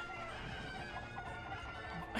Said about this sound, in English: There's just literally too many chickens.